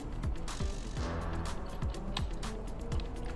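A stake being screwed onto a solar landscape light, with repeated ratcheting, creaking turns at a steady rhythm, close up.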